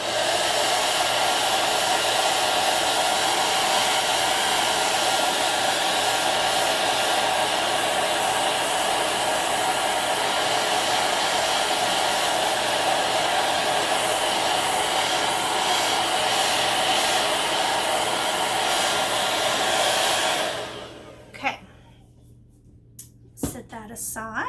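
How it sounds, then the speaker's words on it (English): A handheld hair dryer roars loud and steady for about twenty seconds, drying craft paint on a small patriotic firework decoration, then shuts off abruptly. "I'm just going to use my hairdryer to dry it really quickly"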